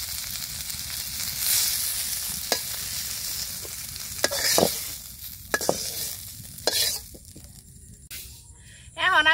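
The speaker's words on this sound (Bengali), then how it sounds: "পাতাগুলো ভালোভাবে ভেজে নিচ্ছি" Leaves frying in a pan in a village kitchen, soft sizzling under repeated scraping stirs of a utensil, with sharp clacks against the pan and a brief squeaky sound near the end.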